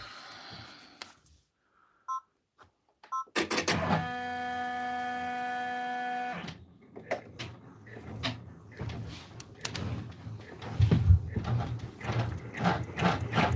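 An in-the-hoop embroidery machine, run at a slowed speed, stitches a raccoon stuffed toy. A steady whining tone holds for a few seconds, then gives way to irregular mechanical ticks and clatter at close range.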